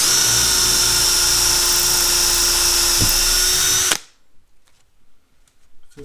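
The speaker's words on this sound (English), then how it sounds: "Alright, let's put the drill. Let's drill a couple holes." A power drill with a Kobalt titanium-coated HSS twist bit boring holes, a loud continuous high-pitched whine that stops abruptly, followed by near silence with faint handling noises.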